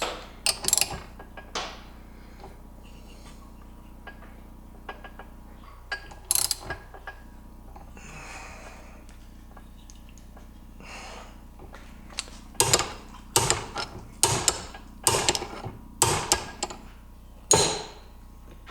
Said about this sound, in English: And I'm thinking this is basically just going to press out that rotor shaft.